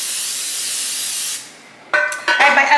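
Cooking spray hisses onto 4x8 loaf pans in a steady, close, loud burst lasting over a second, followed by clattering handling sounds.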